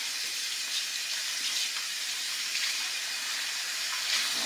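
Steady hissing stream of tap water runs without pause, rinsing conditioner out of the fur of a tanned raccoon tail at a sink.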